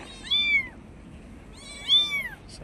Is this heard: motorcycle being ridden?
no